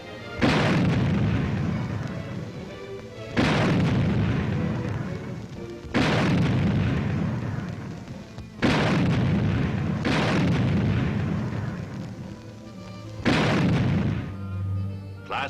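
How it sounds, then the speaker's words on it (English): A 90mm tank gun fires on a firing range: six heavy booming shots spaced a few seconds apart, each a loud sharp blast followed by a long rolling decay. "a demonstration of what a 90mm tank gun sounds like in action"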